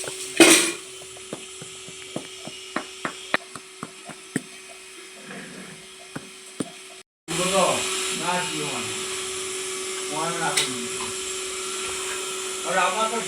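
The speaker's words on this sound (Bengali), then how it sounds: "এখন এই সুপারিগুলোকে বাটবো।" Raw betel nuts are ground into a paste, a steady whirring grind running under people talking, after a stretch of sharp clicks and taps from the nuts being cut.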